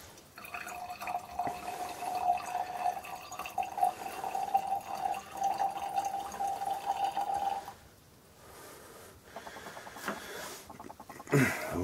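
Clear lime water made from calcium hydroxide trickles and drips through a filter from a syringe, a close, faint liquid trickle with a thin ringing tone that stops partway, followed by a few scattered drips.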